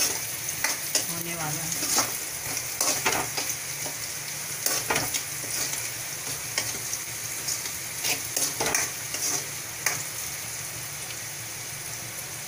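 Onions fry in a pan with a loud, dense sizzle and scattered crackles and scraping stirs, while a voice speaks briefly in Hindi near the start.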